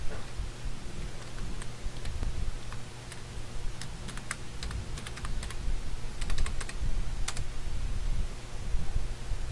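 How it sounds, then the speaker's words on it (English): Password typed on a computer keyboard in a quiet room: a run of light, quick key clicks in irregular bursts over a faint steady hum, close and fairly soft. "type in your password"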